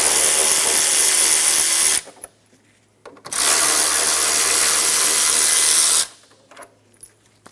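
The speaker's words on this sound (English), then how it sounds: "Remove the 2 bolts on the air box. They're 10mm." Two loud bursts from a power drill or impact driver running a 10mm socket remove the air box bolts on a Nissan Altima, each about two seconds long, separated by a short quiet gap.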